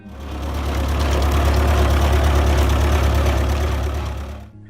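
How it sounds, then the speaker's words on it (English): A John Deere 2010 tractor's 4-cylinder engine running steadily, a loud, close low rumble that holds level for several seconds before cutting off abruptly at the end. "The John Deere 2010 was designed to serve medium-sized farms with a 4-cylinder engine"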